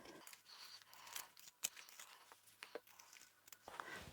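Scissors trim the curved edges and corners of a sewn snap-wallet pouch made from reclaimed fabric, producing a few close, soft snips mixed with fabric rustling and handling noise.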